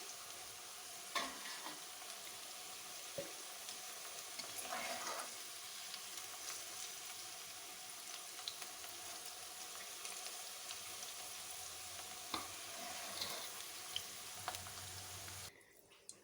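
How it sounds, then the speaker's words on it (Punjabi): Okra (bhindi) frying in oil in a pan for a dahi bhindi curry, a faint steady sizzle with a few soft clinks and scrapes scattered through, no voices. "ਪਿੰਡੀਆਂ ਹੁਣ ਫਰਾਈ ਹੋ ਗਈਆਂ ਏ"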